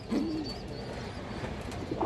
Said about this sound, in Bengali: একটা সিলভার পাকা খাকি মাদি কবুতর আছে মাশাআল্লাহ